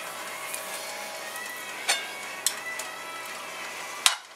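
Butter melting in hot cooking oil in a pan gives a steady, soft sizzle throughout, with a few light clicks and taps on top.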